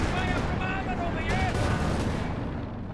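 A Panzer Commander artillery strike lands in Company of Heroes 2, a rapid cluster of booming blasts and crackling impacts rolling on under a commentator's continuous talk.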